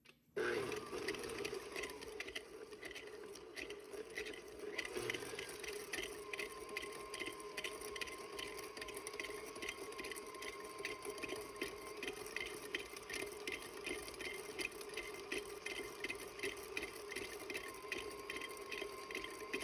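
An electric mixer whirs steadily through chocolate chip cookie dough with butter and brown sugar, a continuous motorized hum with a faint rhythmic ticking throughout, fairly quiet and steady from start to finish.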